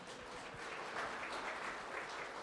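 Audience applause for Mr. Tom Chi at an Indigenous men's conference, a continuous, fairly distant wash of clapping from a large crowd, even and sustained throughout.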